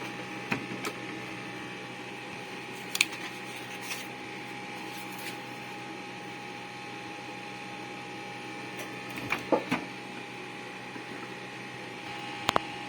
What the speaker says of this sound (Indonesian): setelah di setting maka kita masukkan dokumen ke dalam printer